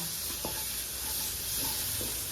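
Khoa mixed with mango pulp sautéing and being stirred in a pan, giving a steady soft sizzle with faint scraping stirs throughout, close and fairly quiet, no voices.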